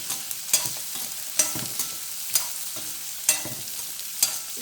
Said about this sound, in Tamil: இது கொஞ்சம் வறுத்துடணும். எண்ணெயிலே வறுத்துடணும்.